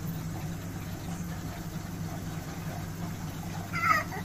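A Baymak combi boiler that had shown an E10 fault starting up again and running, giving a low, steady hum with faint tonal whine, and a brief brighter sound near the end.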